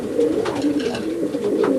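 Racing pigeons in a loft coo softly and repeatedly in a steady, throaty murmur, close and continuous, with faint rustling behind.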